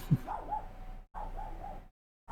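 A dog barks twice at close range, each bark a short sharp yelp followed by a brief trailing whine, with a pause between them.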